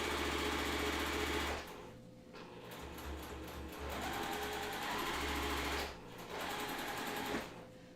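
A sewing machine stitches a quilt seam across fork pins, running in steady bursts that slow and pause briefly as it nears each pin, then speed up again, loud and close with no talking.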